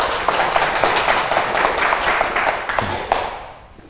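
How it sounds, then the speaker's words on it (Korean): An audience at a Buddhist lecture claps steadily for several seconds, a fairly loud, even patter that gradually fades at the end. "그런 의미에서 박수"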